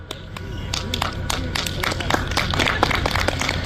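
An audience claps for the super finalists at the close of a competition day at Raassilla, Estonia, in the first-stage free class. The clapping is dense, steady and moderately loud, with a voice speaking over it.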